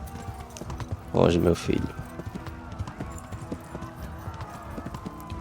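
Hooves of a horse clip-clop at a run in the medieval game Kingdom Come Deliverance, a steady rhythm under a short loud spoken line and background game sound.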